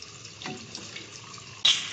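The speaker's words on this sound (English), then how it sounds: "first thing I'm going to do is I'm going to flush the test cocks" Water spurts hard from a test cock on a double check valve backflow assembly, a sudden loud hissing gush near the end after a quiet stretch with faint drips and taps.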